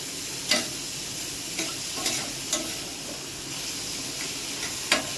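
Salted onion sautés in a pan over a high gas flame, giving a steady, close sizzle broken by occasional sharp clicks of the stirring spoon, with no one talking.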